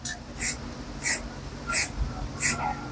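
White paint sprays onto a scale model in four short bursts, each a sharp airy hiss that stops cleanly, with quiet pauses in between and faint background noise.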